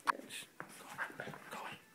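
A dog whimpers and pants in short breathy bursts close by on Christmas morning indoors, with faint household voices in the background.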